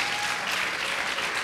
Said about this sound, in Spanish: ¿Qué tal si le damos un fuerte aplauso a ellos